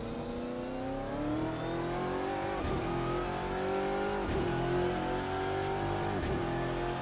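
GT1 race car engine in the Assetto Corsa sim at Laguna Seca, revving steadily upward through three quick gear shifts, each with a brief dip before climbing again, loud and continuous.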